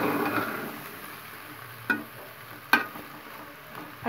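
Mashed potato bharta mixture being stirred in a pan with coriander and spices, a faint low sizzle with two distinct scraping strokes of a spoon, quiet and close, no talking.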